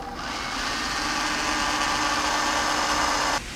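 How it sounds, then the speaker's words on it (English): A right-angle drill fitted with a step bit bores steadily through a dash accessory mount in a Toyota Tundra, giving a continuous close whirring grind that cuts off abruptly near the end. "And then we're just going to kind of slowly drill down through."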